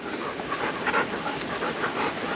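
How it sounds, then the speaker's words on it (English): A nervous, highly reactive German Shepherd pants in quick, breathy bursts, heard close over steady background noise. "that's a nervous dog"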